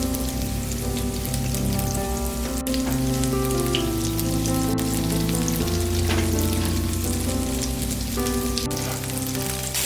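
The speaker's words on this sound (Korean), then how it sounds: "반죽을 한 숟가락씩 떠서 앞뒤로 노릇하게 붙여주세요." Spoonfuls of enoki mushroom batter sizzle as they pan-fry in plenty of hot oil over medium heat. The crackling is steady and close, with occasional sharp pops and no voices.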